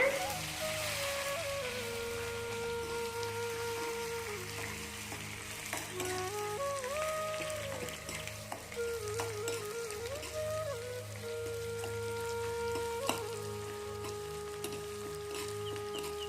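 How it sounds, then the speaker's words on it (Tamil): Onions sautéing in oil in a pan with urad dal and green and dried red chillies for a mushroom fry, a steady close sizzle running throughout, with faint tonal background sounds over it and no talking. "வெங்காயம் நல்லா கலர் சேஞ்ச் ஆகிற வரைக்கும் வதக்கிக்கோங்க"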